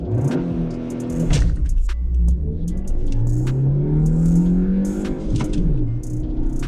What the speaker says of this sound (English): let's do a quick acceleration test of the Maruti Suzuki Jimny in 4 high, and first gear, let's launch it